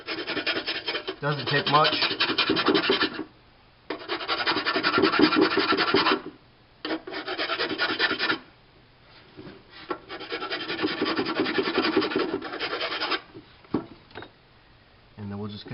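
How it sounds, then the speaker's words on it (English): A hand file rasps against the edge of an LED pushbutton being fitted into an upper console panel, steady scraping strokes in several long bursts with short pauses, close up, with a brief spoken remark. "we'll go in there and use the file on the edge"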